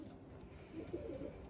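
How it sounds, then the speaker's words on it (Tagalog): A racing pigeon coos softly in a loft, a few low, throaty murmuring calls midway through against a quiet background hum, faint and fairly close. "Ibon na yun."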